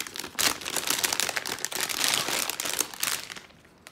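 An anti-static plastic bag wrapped around a GTX 1660 Ti graphics card crinkles and rustles continuously up close, dense and crackly, fading out at the end; no talk.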